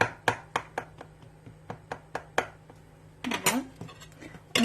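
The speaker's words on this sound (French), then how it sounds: "à l'aide d'une fourchette, je vais venir la piquer" A fork pricks store-bought puff pastry dough for an apple tart, making about a dozen sharp, close taps in an uneven rhythm. A brief rustle and handling noise break in near the end.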